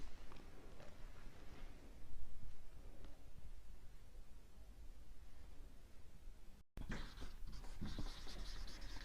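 Writing scratches along steadily with a pen or marker, close and fairly soft, in ongoing strokes with a brief break before a denser, brighter run of scribbling.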